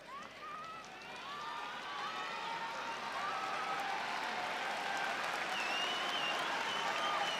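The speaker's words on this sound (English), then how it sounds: "Great applause here at Saitama Super Arena for Don Frye." A large arena crowd at Saitama Super Arena applauds and cheers for a fighter at a PRIDE FC mixed martial arts event, a dense, sustained roar of clapping that builds and holds, with whistles cutting through.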